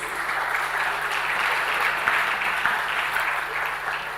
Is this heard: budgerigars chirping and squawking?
no